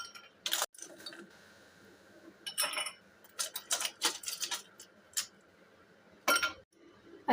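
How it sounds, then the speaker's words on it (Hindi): Ice cubes drop and clink into serving glasses for jamun juice, a series of sharp, close glassy knocks and rattles in irregular bursts with short pauses between them. "अच्छे से मैंने आइस डाल दी है।"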